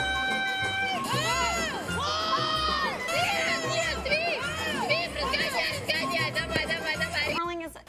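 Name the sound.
women curling players yelling during a match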